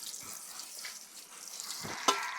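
Chopped onion, garlic and a little tamarind sizzle as they are sautéed in a pan over a wood-fired stove, a soft steady frying hiss with a few faint stirring knocks and a sharper clink near the end.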